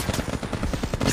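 Rapid automatic weapon fire in the mobile battle royale game Apex Legends Mobile, a quick evenly spaced string of close, loud shots lasting about a second with no talk.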